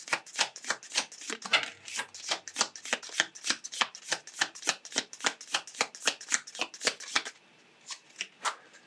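A deck of oracle cards is shuffled by hand in quick, crisp riffling bursts, about a dozen rhythmic close-up swishes, then a short pause and a few final ones.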